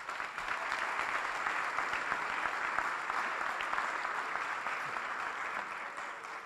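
An audience at an awards dinner applauds steadily for several seconds, a dense wash of clapping that stays loud throughout and eases slightly toward the end, with no voices standing out.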